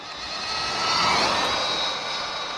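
Arrma Infraction 4x4 1/8-scale 3S brushless RC car at full throttle on a speed run, a loud steady high-pitched whine that swells and fades as it passes, with no voices.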